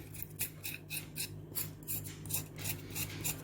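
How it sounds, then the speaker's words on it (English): Potatoes being washed and scrubbed to scrape dirt off the skins, giving quiet, rapid rasping scrapes in an uneven rhythm close by, with no talking. "It has to be washed really well, scraping every dirt from the potatoes."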